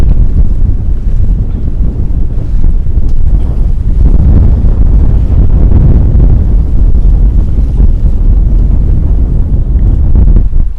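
Strong wind buffets the microphone on a boat at sea, a dense, loud, unbroken roar with waves rushing beneath it, and no one speaking.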